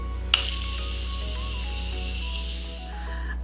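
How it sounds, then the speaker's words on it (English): A short burst of fine makeup setting spray hisses steadily for about three seconds, close and fairly soft, then cuts off. "I'm just gonna finish off with a spritz of my setting spray."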